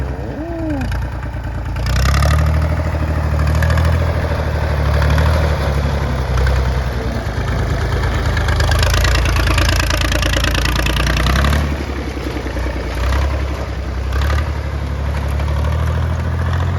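An Iseki TS3110 31-horsepower 4WD tractor engine idles close by with a steady low chugging throb, its loudness swelling slightly at times.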